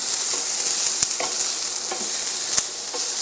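Brussels sprouts, onions and garlic sizzle and fry steadily in a pan, a continuous loud hiss with a few sharp crackles and pops scattered through it, and no one speaking.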